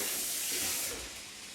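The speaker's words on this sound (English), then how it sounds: "Wash my hands." Running water from a tap splashes and hisses briefly as hands are washed in a kitchen, a soft close spray that fades after about a second.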